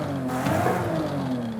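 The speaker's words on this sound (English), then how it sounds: "let's go ahead and take a listen to the race exhaust." In Forza Horizon 5, a Toyota Chaser with a race exhaust holds a loud, raspy engine rev, sustained and steady with slight pitch wavering and no voices over it.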